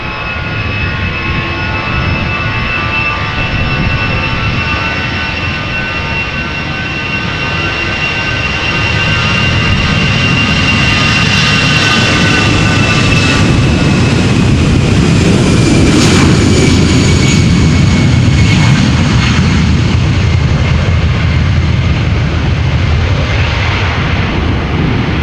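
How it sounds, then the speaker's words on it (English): 17-year-old easyJet Airbus A319 taking off from Amsterdam Schiphol for Olbia, its jet engines a loud, swelling roar with high whining tones that builds to a powerful peak and holds through the climb-out. "EasyJet flight 27817, waiting to get clearance to take off to Olbia. A319, 17 years old, there she goes"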